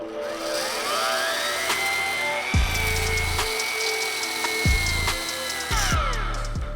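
A rotary buffer with a wool pad, used for polishing a boat, whines at a steady high speed while a spur cleans the pad, with several abrupt loud scraping bursts as the spur presses in.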